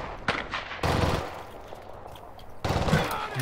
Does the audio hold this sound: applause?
no